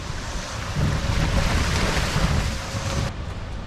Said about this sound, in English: we gotta cross the stream now with our golf cart